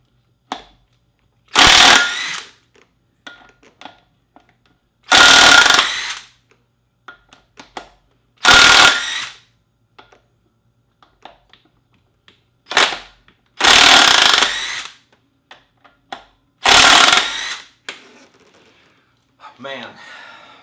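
An Ingersoll Rand W7150 impact wrench with a 17mm socket loosens bolts in six loud, rattling bursts of about a second each, separated by quiet pauses with small clicks and handling noises.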